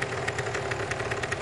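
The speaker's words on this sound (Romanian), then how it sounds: "N-ai un motor mai puțin zgomotos?" A noisy engine runs in a rough, rattling idle with a steady pulsing knock, close and continuous, with no voices over it.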